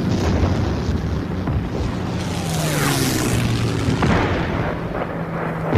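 A heavy artillery bombardment from 1944 wartime footage brings deep rolling booms and rumbling blasts in a dense continuous barrage, loud and sustained with overlapping thuds.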